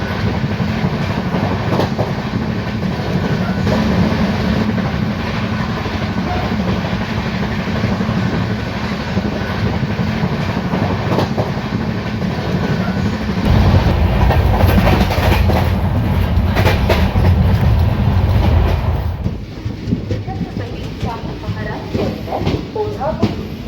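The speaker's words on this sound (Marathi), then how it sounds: "तर एकदम हाय स्पीडने आपली गाडी रुकडी स्टेशन स्किप करत आहे सध्या." Koyna Express speeds through a station without stopping, its wheels clattering in a loud, continuous rush that swells to a heavier roar midway, then thins out.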